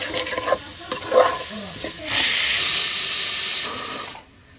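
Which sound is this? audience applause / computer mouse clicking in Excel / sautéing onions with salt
sautéing onions with salt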